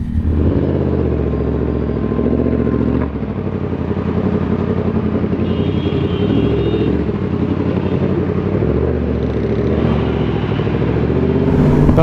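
A BMW S1000RR sport motorcycle ridden through busy traffic, with a steady loud engine drone and wind rumble that hold throughout and ease briefly around one moment before building again.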